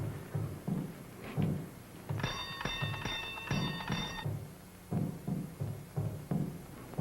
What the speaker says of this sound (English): Ring the bell, Jeff.